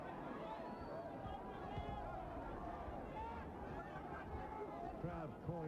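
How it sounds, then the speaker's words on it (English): A boxing crowd in Johannesburg, South Africa in 1997 calls out for Dingaan Thobela, a dense continuous roar of many voices with shouts rising out of the din. "Crowd calling for Dingaan to do something"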